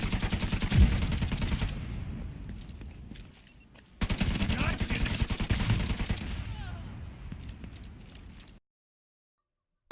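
Submachine gun fire in The Division 2, rapid dense bursts of shots with a short pause around four seconds, then more sustained automatic firing that stops abruptly near the end.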